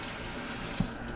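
Tap water rinses ground maize in a kitchen sink, a short steady spray of running water with a small splash near the end.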